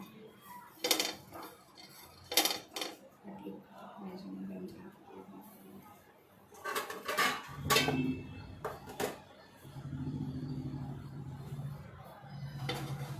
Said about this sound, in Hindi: पहले ड्राई फ्रूट्स एंड सीड्स को सेक लेंगे, लास्ट में ओट्स डालेंगे।